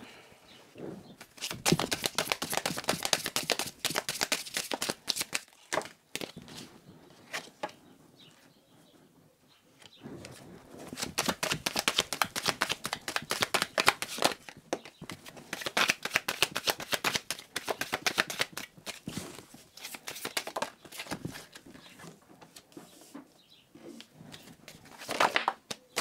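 Cards riffle and snap in repeated bursts of shuffling, with quieter pauses between as they are laid down, close and crisp.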